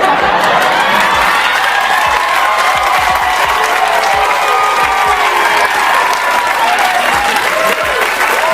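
A large live audience breaks into loud, dense applause with cheering and whoops mixed in, sustained and close throughout, with a few louder shouts standing out from the clapping.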